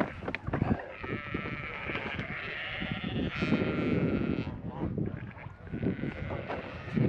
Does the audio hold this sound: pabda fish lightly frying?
no